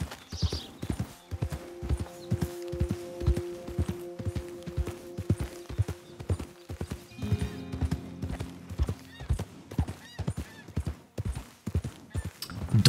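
Horse hooves clop in a steady, brisk rhythm as a rider travels in the game Red Dead Redemption 2, close and continuous, with a brief whinny partway through.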